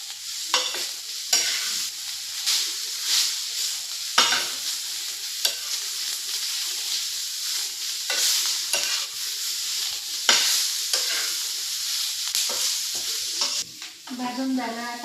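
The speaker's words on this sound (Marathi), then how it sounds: "चांगलं गुलाबी रंगावर भाजून घ्यायचं. कांदा, टोमॅटो, लसूण," Onion, tomato, garlic and coriander roast in a pan for a mushroom masala, with loud sizzling and repeated scraping strokes of a spoon stirring the mixture, steady and close, with no talk.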